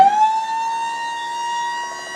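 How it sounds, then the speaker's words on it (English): The electric hydraulic pump raising the dump bed of a 1998 Suzuki Carry DD51T whines in a steady rising tone that settles into a sustained hum, close and fairly loud, with no talk. "I have a little electric button that powers the hydraulic pump to lift up the bed"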